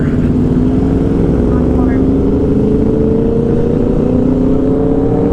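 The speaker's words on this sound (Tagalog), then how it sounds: "seconds pa lang, abante na ang mga motor" Motorcycles pulling away in Manila city traffic, heard from a Honda PCX 160 scooter, a loud, steady engine drone with rising pitch as they accelerate, wind and rumble throughout.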